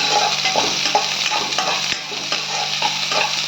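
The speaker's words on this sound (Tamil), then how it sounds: "கொஞ்சம் வெங்காயம் நல்லா கொஞ்சம் வதங்கட்டும்" Chopped onions sauté in a pan for coriander rice, a loud continuous sizzle with repeated scraping stirs of a spatula at a fairly even rhythm.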